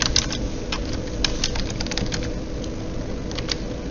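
Rapid, uneven clicking of keys on a computer keyboard, close and fairly loud, in short bursts over a steady background hum.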